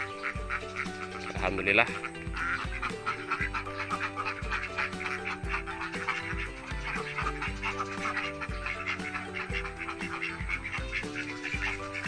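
Dense, continuous quacking from a flock of laying ducks on an Indonesian farm, nearly eleven months into egg production, with a voice talking over the steady chatter.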